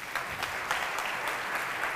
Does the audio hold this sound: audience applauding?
yes